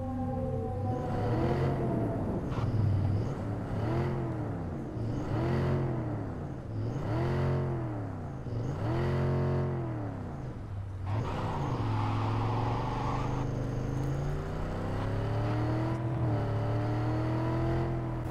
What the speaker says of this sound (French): voici le bruit du moteur.